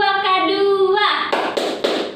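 A group gathered at a home meeting chants the P2K2 clapping chant in unison, then a few loud, sharp hand claps ring out in quick succession.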